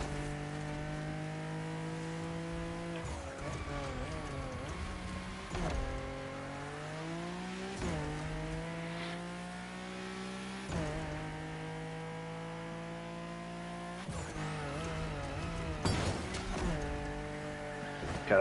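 Race car engine in The Crew Motorfest, revving up through gears in repeated rising sweeps with sharp shifts, steady and close, as the car overtakes and slides.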